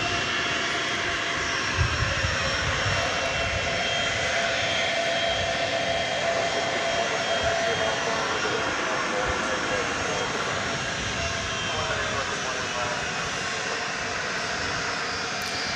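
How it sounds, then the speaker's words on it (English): Boeing 757 jet engines roar at DFW Airport at night, a broad, steady rumble with a high whine on top, fairly distant and unbroken throughout. "So another 20th century 757. It's a 757 party here tonight at DFW Airport."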